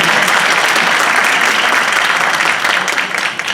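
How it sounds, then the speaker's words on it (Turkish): Dense, sustained applause from a concert audience, loud and close, clapping continuously without a break. "Tekrar alkışlıyorum."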